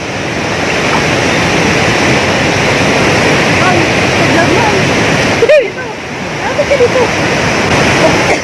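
Strong river current at Tala River Park in Bailen, Cavite rushes loudly and steadily, a dense roar of water like a waterfall that runs throughout, briefly dipping near the middle, with voices of people talking over it.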